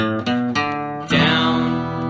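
Guitar chords are strummed close up in a down-down-down-up pattern, several quick strokes followed by a fuller ringing chord that sustains to the end.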